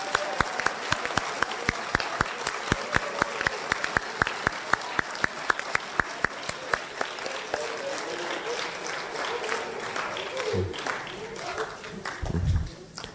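Audience at a National Honor Society induction ceremony applauds new members with a steady, dense patter of claps that thins and fades toward the end, followed by a brief low thump near the close.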